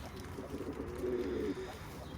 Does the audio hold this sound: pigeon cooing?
yes